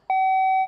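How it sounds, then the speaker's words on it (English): Quiz competition buzzer tested before a countdown round at a math contest, a single clean electronic tone that sounds once and holds steadily for about half a second, clear and alone. "And then Jonathan, can you test your buzzer as well?"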